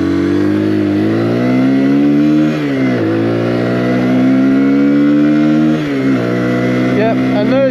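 A Keeway TXM125 motorcycle engine revs loud and close while riding, pitch rising steadily through the gears, with a couple of brief dips at shifts and wind noise throughout.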